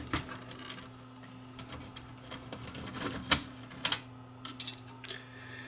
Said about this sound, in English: I'm going to remove the screws, and that should be able to lift the board out